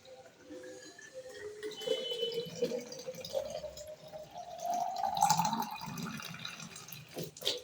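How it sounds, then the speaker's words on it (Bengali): A school water bottle fills from a running tap, the pitch of the pouring water rising steadily as the bottle fills, with a few clinks and knocks near the end. "ওই স্কুলের জলের বোতলটাও ভরিনি।"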